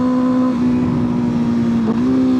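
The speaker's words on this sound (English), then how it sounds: "Pulled in the clutch, blipped the throttle, and kicked down with my foot at the same time." A 2025 Kawasaki ZX-6R motorcycle idling with a steady, buzzy engine hum, then a brief throttle blip for a rev-matched downshift near the end, heard close and loud with no talking.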